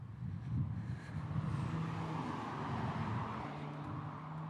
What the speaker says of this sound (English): You can hear the revving of someone who really likes to show off that they have a car